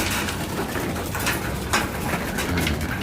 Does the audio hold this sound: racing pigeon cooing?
yes